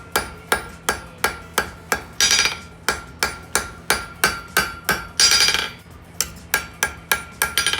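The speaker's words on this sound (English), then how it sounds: "Once the corners are knocked down, you can start putting some weight behind your hammer." Hammer blows strike hot steel being forged into coat hooks, a steady, rhythmic series of sharp ringing clangs, close and loud, with a couple of brief hissing bursts between.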